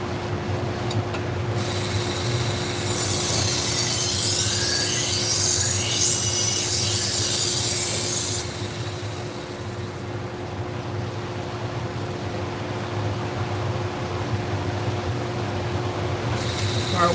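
A knife is drawn across a 120 grit abrasive on a powered sharpener in a steady background hum; one sustained pass brings a bright high-pitched grinding hiss that lasts several seconds, then fades back to the machine's drone.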